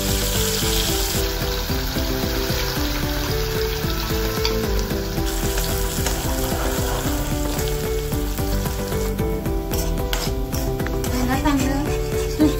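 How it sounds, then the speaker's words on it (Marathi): A ground onion, garlic and green chilli masala frying in ghee for rajma, a dense continuous sizzle with bubbling and crackle throughout, fairly loud and close. "चांगलं तूप सुटेपर्यंत मसाला भाजून घ्यायचा"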